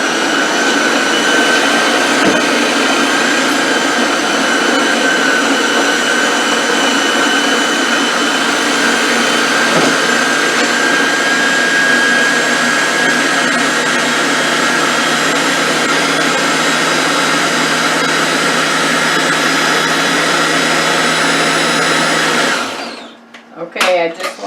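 A Ninja blender whirring steadily as it mixes sofrito loosened with grapeseed oil, a loud continuous motor drone close by that stops abruptly near the end.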